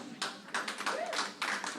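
Scattered hand claps ring out from an audience at a county commissioners court meeting, several sharp separate claps in an irregular rhythm over a quiet room.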